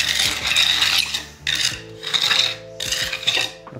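Sika MonoTop repair mortar is pressed and worked onto a concrete beam, giving three rasping, scraping strokes in close succession.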